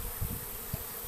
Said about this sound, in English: See, the bees have been checking it out.